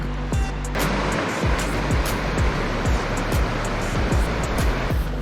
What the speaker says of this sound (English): Here's our first crossing of the Taramoko River, so this one we get to keep our feet dry